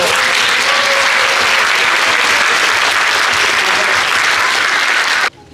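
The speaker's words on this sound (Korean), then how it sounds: "우리 박수로" A church congregation applauds at a senior pastor's installation thanksgiving service, a loud, dense, sustained burst of clapping that cuts off abruptly near the end.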